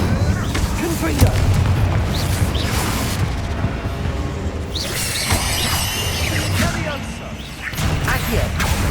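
Confringo blasting spells in Hogwarts Legacy on PS5 go off in repeated booming explosions with shattering crashes, loud and close in a chaotic battle.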